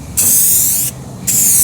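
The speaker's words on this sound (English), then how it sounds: "then just spray from the top instead of from the bottom" Anti-fog coating sprayed from an aerosol can in two close, loud hissing bursts separated by a brief pause.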